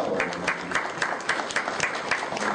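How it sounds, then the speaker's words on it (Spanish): Rhythmic applause at a professional forum in Peru welcomes a speaker, with audible regular clapping accents in a steady beat over a crowd wash. "Un aplauso ya por adelantado."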